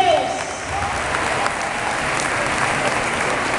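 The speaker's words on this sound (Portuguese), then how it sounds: "Aplaude ao Senhor." A church congregation applauding during worship, sustained dense clapping from a crowd in a large hall, steady and fairly loud throughout, with voices mixed faintly in.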